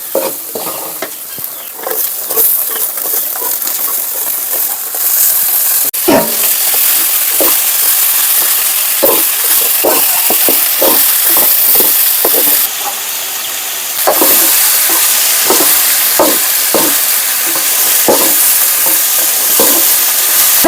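Sliced potatoes frying with softened onions in a pan, sizzling steadily and loud throughout while a utensil clacks and scrapes against the pan in frequent stirring strokes.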